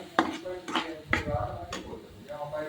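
Scraping, stirring and clanking of a utensil in a pan as onion, garlic and chicken masala fry in oil, with irregular metallic knocks close by under a woman's speech.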